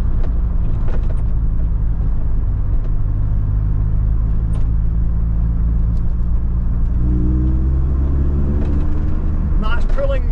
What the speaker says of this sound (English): That's pulling more cleanly now, it's not bogging down like it was before, but you're needing to rev it harder to clear it.